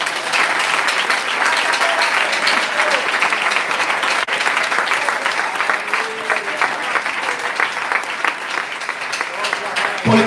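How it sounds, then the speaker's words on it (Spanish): A crowd at an evangelical church service claps steadily and loudly, a sustained wave of applause with some voices mixed in, continuing without pause. "Déme el aplauso al Señor"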